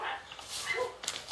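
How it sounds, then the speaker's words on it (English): Dogs barking in the survival video game The Forest, a few distant yips and barks heard faintly over the game's ambient background, with no talk. "Oh, the dogs are barking."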